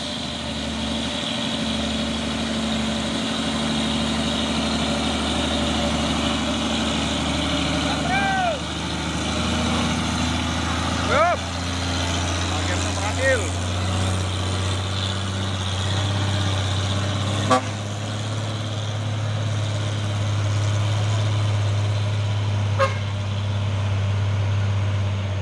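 Siba Surya FAW trailer truck labouring up the steep Bukit Kodok climb, its heavy diesel engine droning steadily and loudly, with occasional brief squeaks and knocks over the rumble.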